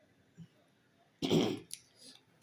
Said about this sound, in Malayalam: ചുമയുണ്ട് കേട്ടോ, മാറി ചുമച്ചതാ